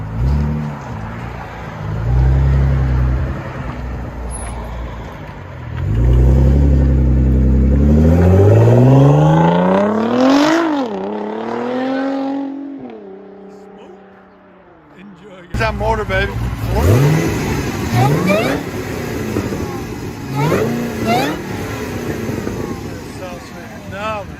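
A powerful Chevrolet Corvette engine rumbles, then revs hard with a rising whine before dropping back to a rough idle, loud and close amid background noise.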